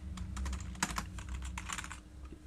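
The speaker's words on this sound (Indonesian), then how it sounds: "Kita ketik saja Nur." Quick, uneven keystrokes on a computer keyboard as a name is entered into a village population database system, close and fairly soft, with no talking.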